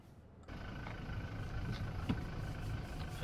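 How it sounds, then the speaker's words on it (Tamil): A Toyota Fortuner SUV drives over rumble strips and chicken holes at an off-road boot camp, giving a steady, close engine and road rumble with a small knock midway and no talk. "இப்போ நம்ம ரம்ப்ளர்ஸ் அண்ட் சிக்கன் ஹோல்ஸ் இதுக்குள்ளே வந்துட்டு இப்போது வண்டி ஓட்டிகிட்ருக்கோம்"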